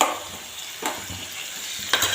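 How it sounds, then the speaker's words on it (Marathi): Chopped onion fries in hot oil for a potato curry, giving a steady close sizzle broken by a few sharp clicks of a spoon stirring against the pan, with no talking. "बटाट्याच्या भाजीमध्ये कांदा घातलेला आहे तेलमध्ये।"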